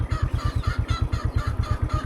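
Ducks in a Lao village give a rapid, steady run of short quacks in even rhythm, loud and close, with no talk over them.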